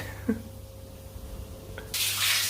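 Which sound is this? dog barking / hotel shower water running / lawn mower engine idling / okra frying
hotel shower water running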